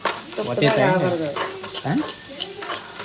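Dahi tadka frying with salt in a pan, a loud close sizzle with stirring scrapes, bursts swelling and easing over a few seconds, no voices.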